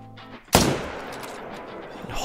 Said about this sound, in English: Hopefully that was a good shot.